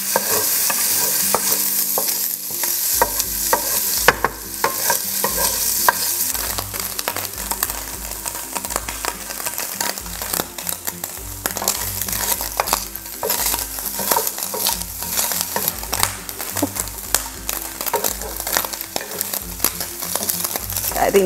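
Kimchi fried rice stir-fried on a burner, sticking to the pan, with continuous scraping and stirring strokes over a bright, steady sizzle, loud and close for a long stretch.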